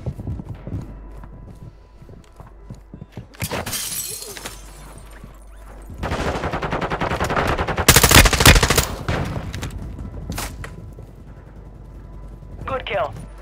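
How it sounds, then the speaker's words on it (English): Shotgun blasts in the Warzone battle-royale video game ring out in loud bursts amid chaotic gunfire and breaking sounds, with a player talking over the action. "that boy shooting shit out of that shotgun"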